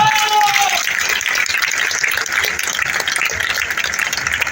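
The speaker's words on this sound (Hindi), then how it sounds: "जोरदार तालियां बजनी चाहिए" A crowd at a Hindu religious rally in Bengal claps loudly and steadily, a dense continuous applause throughout with a brief voice at the start.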